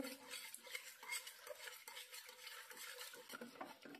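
Cooked brinjal being mashed with a spoon inside a pressure cooker for a brinjal gojju, giving a steady run of close scraping, stirring and soft metallic clinks against the pot, with no voices.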